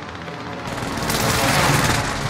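Airstrike explosions in the Call of Duty: Warzone video game, a low rumble that swells into a dense, heavy roar of blasts and crackling booms, loud and continuous.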